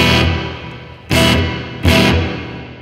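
Electric guitar played through a Line 6 POD Go multi-effects unit with compressor, boost and reverb engaged, three loud strummed chords each ringing out and decaying, with a reverb tail between hits.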